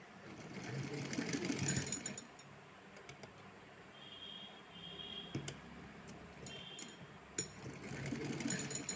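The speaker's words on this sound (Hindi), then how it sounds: "चलिए तो हम एक सिलाई लगाते हैं" A sewing machine runs a double line of stitching on cloth while making a costume outfit, its motor whirring steadily near the mic with faint ticking and a few sharp clicks, louder at the start and end.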